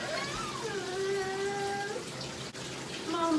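Cold tap water pours steadily into a hot bathtub during a toddler's nighttime routine, a continuous soft rushing with faint high vocal tones drifting over it.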